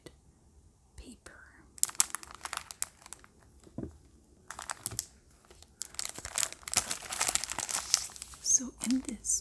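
Sheets of crinkly eco-dyed paper are handled up close, crackling and rustling in bursts that grow denser and louder toward the end, with soft whispering between them.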